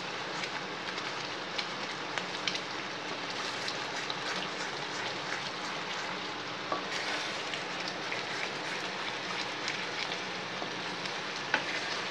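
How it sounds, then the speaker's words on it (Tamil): Apple halwa being stirred in ghee in a pan, giving a steady, fairly quiet sizzling and frying hiss with soft scraping from stirring throughout, with no talking. "நெய் விட்டு விட்டு நல்லா கிண்டணும்."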